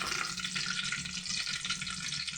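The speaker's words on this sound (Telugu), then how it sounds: "కొన్ని టేబుల్ స్పూన్ ఆయిల్ వేసి నాలుగు పచ్చిమిరకాయలు వేసుకొని" Green chillies fry in a few tablespoons of oil in a pan for peanut chutney, giving a steady, close hiss and crackle that runs without a break and with no voices.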